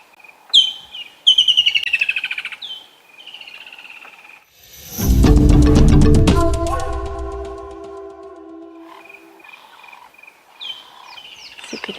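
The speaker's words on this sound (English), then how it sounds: "As you can hear, there are a lot of birds active while we're watching all of this happening." Birds chirping at sunrise on an African safari, close bright tweets and trills from several birds, with a brief loud burst of layered calls partway through, then scattered chirps again.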